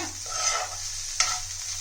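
Okra is stir-fried in oil over a high flame, with a steady sizzle and a single sharp scrape of the spatula against the pan partway through, heard close by.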